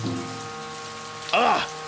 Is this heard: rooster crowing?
no